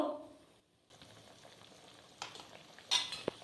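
Beans and shrimp curry with added water and salt being stirred in a pan, a faint soft scraping and gentle simmering sizzle with a brief pause, then a few louder clinks of the spoon near the end.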